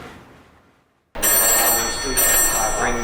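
A 1950s telephone at the Connections Museum in Seattle rings with a loud, bright, continuous electric bell that starts abruptly after a moment of quiet and keeps going.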